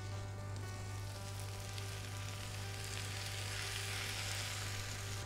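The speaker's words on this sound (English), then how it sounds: "I'm going to get silver beet on." Silver beet frying in a pan alongside marinated lamb and vegetables, with a steady, dense, close sizzle and crackle that holds throughout, no talking.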